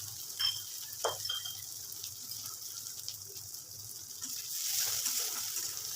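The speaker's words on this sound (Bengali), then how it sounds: "এবার পেঁয়াজটা একটুখানি লাল লাল করে ভেজে নেব।" Chopped onion frying in oil with panch phoron, a soft steady sizzle with faint stirring clinks, swelling slightly louder toward the end.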